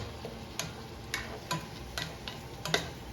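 Frozen ham with frozen fruits and vegetables crackles quietly in a frying pan. A low hiss runs under sharp, irregular ticks and pops.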